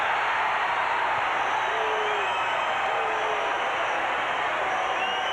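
Basketball arena crowd at a World Basketball League three-point and slam dunk contest in Youngstown, a steady roaring wash of cheering and noise that continues throughout without a break.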